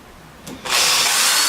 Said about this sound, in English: pre-drill, actually do it with a bigger drill